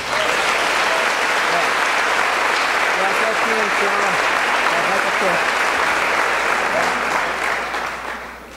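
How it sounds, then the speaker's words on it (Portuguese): A church congregation applauding during a worship service, loud steady clapping sustained for several seconds with some voices mixed in, fading as it ends. "Vamos receber a palavra com lindas palmas."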